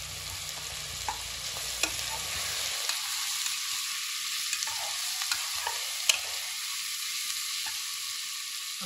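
Green chillies and vegetables frying in a pan, a continuous crackling sizzle with scattered stirring clicks and pops, close and steady.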